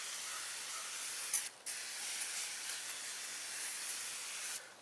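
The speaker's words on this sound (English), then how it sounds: "Alright, I'll just spray it directly in there." Aerosol spray can sprayed directly into a cast iron skillet for seasoning, giving a steady close hiss that runs almost unbroken for several seconds, with one short pause near the start.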